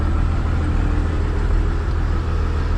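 Several diesel trucks lined up idling, a loud, steady low engine rumble with a faint regular throb and no talk.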